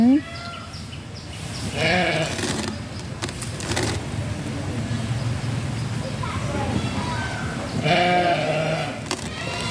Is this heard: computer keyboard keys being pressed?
no